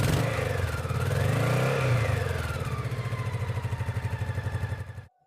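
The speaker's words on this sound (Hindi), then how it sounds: "अनुज ने किसी तरह बाइक चालू की" A motorbike engine catches and revs hard, its pitch rising and falling, then settles into a steady rhythmic throb before cutting off abruptly near the end, loud and close with no voices.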